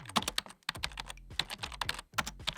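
Fast, uneven clatter of keys on a computer keyboard as an answer is typed, in bursts with brief pauses between them, close and fairly quiet.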